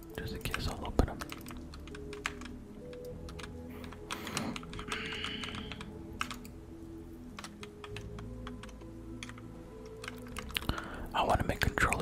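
Close, crisp computer keyboard typing during a Fortnite session, with bursts of rapid clicks and key taps scattered across the clip and soft whispering underneath.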